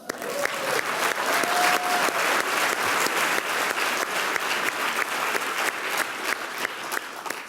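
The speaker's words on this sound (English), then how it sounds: "So please join me in applauding her for that." Audience applause at an Oxford Union style debate session, a steady dense clapping that stays loud and continuous throughout, with faint crowd murmur beneath.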